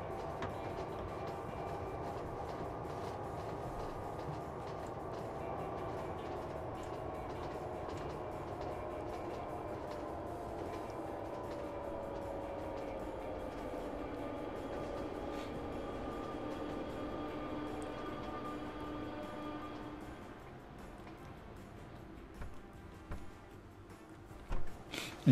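Trains rumbling along rail lines in the train-management video game Train Fever, a steady low rolling drone with faint tonal hum that thins out near the end, a few soft clicks following.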